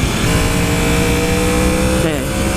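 Loud, steady roar of a 2015 Yamaha R1 sport motorcycle engine under way, with a brief dip and shift in pitch near the end like a quick-shifter gear change, close and constant throughout.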